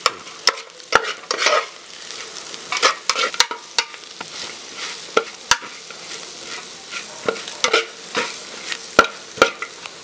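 Beef fry being stirred in a pan as it roasts, with repeated sharp scrapes and clatters of a spoon against the pan over a steady sizzle, close and fairly loud with no voices.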